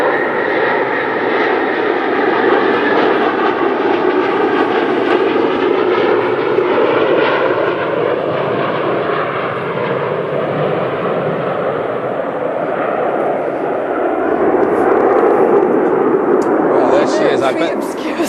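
A Concorde airliner landing at Edinburgh roars loudly and steadily for the whole stretch, a dense, sustained jet-engine thunder that swells slightly near the end, with a voice talking beneath it.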